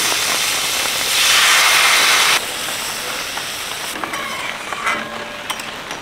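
Water poured into a hot pan of yam and shrimp curry, setting off a loud burst of sizzling hiss that settles into a softer steady bubbling with faint clinks.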